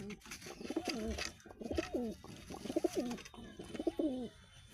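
Jiriya and Madras pigeons coo in four repeated rounds, each a rolling, warbling phrase close by with small pauses between them, a male and female among the birds.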